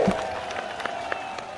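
A crowd at an Uttar Pradesh election rally claps in scattered, uneven bursts, moderately loud and steady throughout, with a faint murmur of voices underneath.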